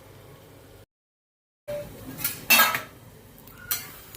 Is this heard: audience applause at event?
no